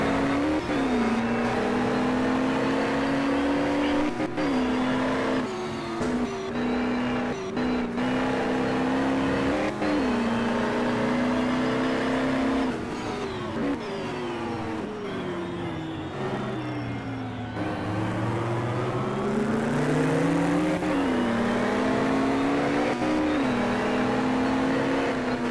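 A Holden V8 touring car from the 1985 New Zealand Touring Car Championship at Lady Wigram roars down the straight, the engine note climbing steadily through gears with a brief dip and swell as it passes, loud and continuous with no talk.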